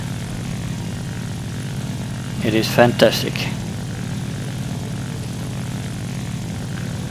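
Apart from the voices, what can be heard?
La-5F propeller fighter plane engine in War Thunder video game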